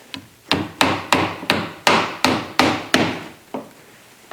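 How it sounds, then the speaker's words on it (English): A hammer drives a nail into wood on an old cabin roof, about ten sharp, ringing blows at an even, quick pace, close and loud, with no talking. "Then I take and nail it."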